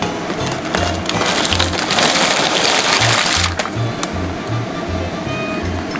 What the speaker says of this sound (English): When the waters came to boil, you can go ahead and just throw that in.